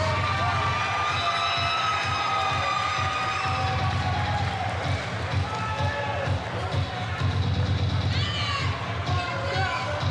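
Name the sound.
boxing crowd cheering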